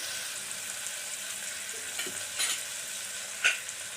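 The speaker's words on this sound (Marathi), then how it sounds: "आता हे चांगलं परतून घ्यायचं" Tomatoes sautéing in a pan for veg pulao, a steady close sizzle with a few soft scrapes and clinks of a stirring spoon, no talking.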